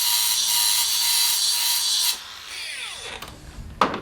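Metal part of an old Thwaites dumper being cut in half with a power tool, a loud steady hissing, grinding cut for about two seconds, then it winds down, followed by a few scattered knocks.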